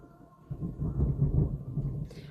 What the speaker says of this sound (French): L'orage.